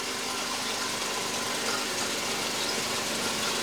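Mercedes-Benz S124 with the M102 four-cylinder engine idling roughly, a loud, close, continuous engine drone under the open hood, with no speech.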